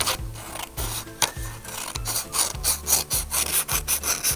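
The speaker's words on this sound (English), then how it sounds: "you are going to cut all of these strips" Scissors cut paper strips for a craft kit in a series of rhythmic, close crunching snips, about a dozen quick cuts that get faster toward the end, with no talk.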